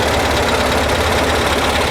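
A Porsche 912 engine idles steadily at its correct RPM after a charging system rebuild and cleaned idle jets, a loud continuous close-up rumble with a slight knocking pulse and no pauses.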